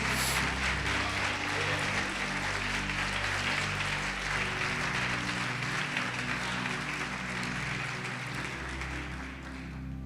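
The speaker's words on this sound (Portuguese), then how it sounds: "Você pode aplaudir o Senhor Jesus e glorificá-lo." A church congregation applauds in a sustained, dense wash of clapping that holds steady for several seconds and gradually tapers toward the end, with organ or keyboard tones sounding underneath.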